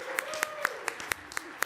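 Scattered, uneven claps from a small audience at a government housing grantee orientation meeting, about eight sharp hand claps spaced apart over a steady low hum, fairly faint.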